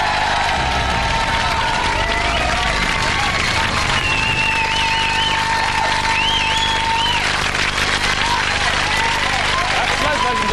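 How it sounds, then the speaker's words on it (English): Dense, sustained applause and cheering from a live studio audience at a comedy variety show, loud and unbroken, with a few whistles cutting through the clapping. "Let's have a big round of applause for Les."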